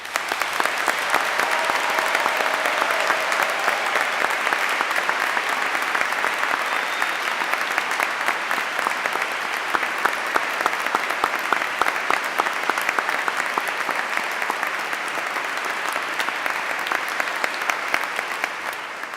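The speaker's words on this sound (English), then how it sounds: "please join us in giving all our new graduates a final round of applause" A large audience at a graduation ceremony gives the new graduates a sustained, loud round of applause, dense steady clapping that carries on evenly for the full stretch with no voices over it.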